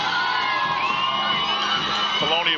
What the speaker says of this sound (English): Colonia players cheering on the fans, trying to get people up.